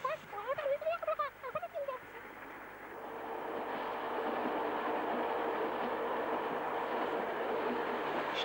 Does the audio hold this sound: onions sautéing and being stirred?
no